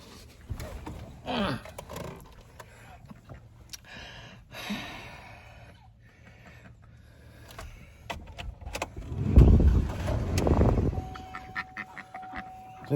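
A pickup truck on a farm where ducks wander underneath cranks over and its engine catches and runs loudly near the end, after a few scattered ducks' quacks and small knocks.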